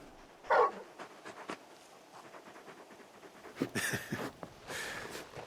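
A large dog in the video game Final Fantasy XVI pants in quick, breathy bursts with a few soft whimpering sounds, set against a faint background ambience.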